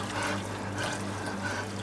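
Cold water runs steadily from a tap during a workplace first aid burn treatment, a continuous close splashing flow with no break.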